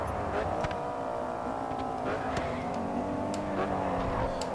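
An Audi RS5 Coupe races in the video game Grid 2, its engine droning loudly and continuously with wavering revs, while faint clicks and knocks come through now and then.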